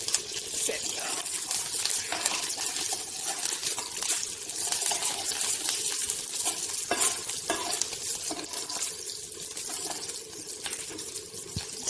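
Ginger and curry leaves fry in hot oil alongside spices and cumin seeds, giving a steady, close crackling sizzle with sharp pops and the scrape of stirring throughout.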